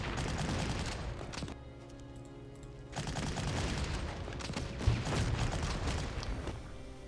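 Gunfire from the Panzer Corps strategy game, dense crackling volleys of shots that briefly thin out, then return as a steady stream of rapid bursts.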